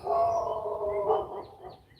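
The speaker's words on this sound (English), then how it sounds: "You hear that dog howling?" A neighborhood dog howls outdoors in a sustained, wavering tone. It carries steadily for about a second and a half, then fades. The sound is moderately distant and there is no talking.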